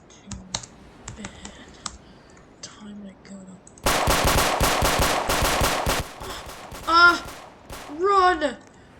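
Bursts of rapid automatic gunfire in the Warship RP video game follow scattered clicks, then rise into a loud sustained volley, with voices shouting over the shooting near the end.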